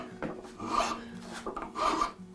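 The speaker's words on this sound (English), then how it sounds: "I'm just going to come into the file and clean those out a little bit" A hand file rasps back and forth over a wooden screw thread to clean out rubbing spots, giving two short close strokes with a gritty, dry scrape.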